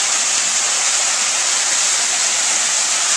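Backyard pool grotto waterfall pouring into deep water at half flow, a steady, loud, continuous splashing rush of water with no other sounds.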